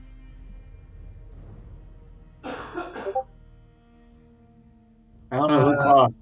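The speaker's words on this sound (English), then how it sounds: "Someone coughed." A person gives two short coughs or throat clears a few seconds apart, the second louder and closer, against a quiet room with a low steady hum.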